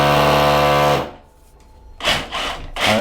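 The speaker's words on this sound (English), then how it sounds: "We're going to try and drill." A drill bores into a hollow-sounding garage wall, a loud, steady grinding burst up close that cuts off, followed by two short scraping rubs.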